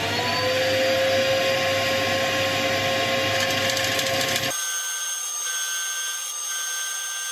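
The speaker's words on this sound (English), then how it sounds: "I'm also going to turn on the extractor." A dust extractor runs in a woodturning workshop with a loud, continuous whining roar. Its tone shifts abruptly partway through, then keeps a steady hum.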